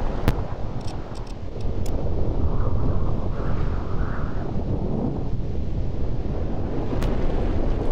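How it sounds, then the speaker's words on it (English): Storm wind in the video game Fallout New Vegas, a loud, continuous roaring rush with broadband howling gusts that holds steady throughout, with a few faint clicks and no talking. "Or not, it's just always a storm."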